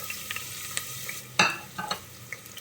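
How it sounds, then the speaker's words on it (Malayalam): Chopped onions sautéing in hot oil for palak beef curry, quiet intermittent sizzles and crackles with a few louder scraping stirs, close by. "ഇത് നന്നായിട്ട് നമുക്കൊന്ന് വഴറ്റിയെടുക്കാം"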